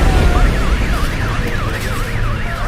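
Wailing alarm rising and falling in a steady sweep, loud and close over a rumbling low background, like car alarms going off after a violent explosion.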